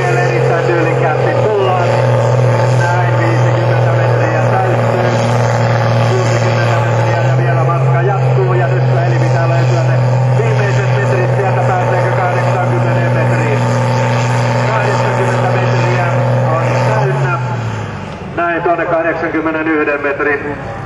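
A Valmet tractor's engine drones loud and steady at a tractor pulling event in Haapajärvi, Finland, Farmi 6000 kg class, as the pull gets under way, with a commentator talking over it throughout before the roar drops away near the end.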